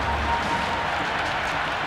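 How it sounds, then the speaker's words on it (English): Dense cricket stadium crowd at a Women's Premier League match between Mumbai Indians and UP Warriorz, a steady roar of cheering and applause filling the air continuously with no breaks. "Will you listen to that crowd?"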